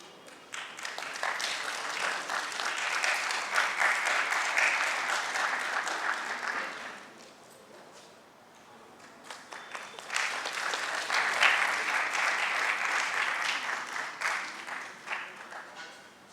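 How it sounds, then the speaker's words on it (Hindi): An audience at a stage programme breaks into applause in two sustained rounds of dense clapping, each several seconds long, with a quieter lull between them. "हमारे दर्शकों ने भी तालियां बजाकर आज के इस कार्यक्रम का श्री गणेश कर दिया है।"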